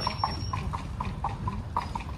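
Rhythmic clip-clop of a carriage horse's hooves on hard pavement in Salzburg's historic town, a quick steady trot heard close by over low background rumble.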